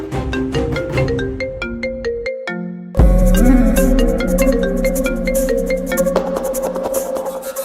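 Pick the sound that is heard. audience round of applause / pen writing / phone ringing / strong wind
phone ringing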